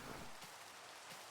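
Soft, steady video game rainfall patters across the whole short stretch, a light hiss of drops with no voices or thunder.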